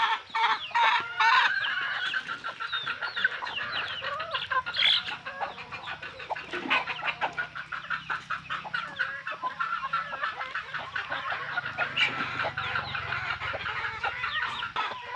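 Gamefowl roosters and hens cluck steadily and close by in a yard, a dense overlapping chorus of fowl calls running throughout with no talk.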